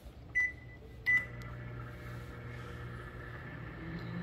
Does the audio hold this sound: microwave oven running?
yes